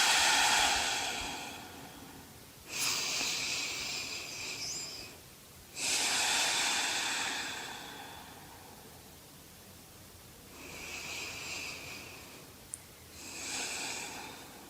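Deep, slow breathing during a prenatal Pilates stretch: long airy inhales and exhales in an even rhythm, close and soft, about four full breaths with pauses between and no speech.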